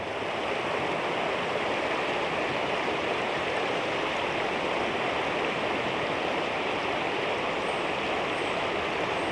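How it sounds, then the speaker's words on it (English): Steady, broad rushing of water runs unbroken throughout, a full roar of a river pouring into the sea at high tide on a windy day at Kildonan, Isle of Arran, with no voices. "of the river running into the sea."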